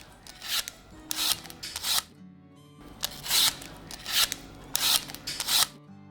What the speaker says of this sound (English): Peel your apples.